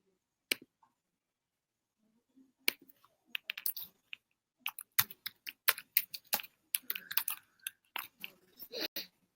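Fingers tap out a message on a computer keyboard in quick, irregular bursts of crisp clicks. The typing is close but quiet, with short pauses between runs of keystrokes.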